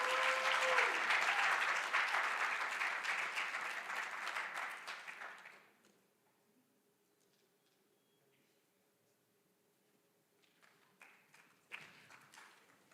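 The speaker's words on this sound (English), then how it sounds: "Yes, applause." Audience applause at a college of medicine awards ceremony, a dense clapping that fades away, then scattered claps return briefly near the end.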